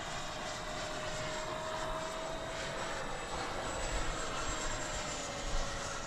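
An 80mm T-7A model jet with its landing gear retracted flies past as a steady, moderately distant drone with a faint high whine, holding an even level throughout with no talk.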